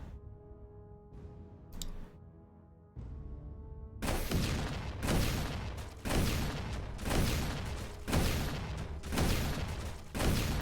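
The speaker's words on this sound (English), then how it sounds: "We'll get lots of explosions." In the dungeon game Dungeon 100, a fire build sets off explosions: after a quieter stretch with soft tones, a run of loud, booming blasts lands about once a second, each with a rough rumbling tail.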